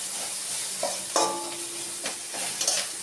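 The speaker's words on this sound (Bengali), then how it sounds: "পেঁয়াজটা ভাজা ভাজা করে নেবো" Onions sizzle steadily in a hot pan, with a spatula scraping and stirring a few times over the constant hiss.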